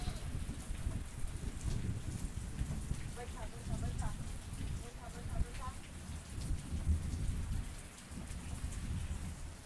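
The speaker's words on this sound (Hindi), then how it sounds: "अभी 4:07 गरज रहे हैं बादल और पानी बरस रहा है" Heavy rain pours steadily during an evening storm at a house in the countryside, a constant hiss with low rumbling thunder underneath, while faint voices murmur in the background.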